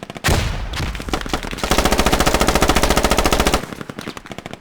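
Loud automatic gunfire in the video game Squad: a sharp opening shot, then a sustained rapid burst of machine-gun fire lasting about two seconds, close and dominant.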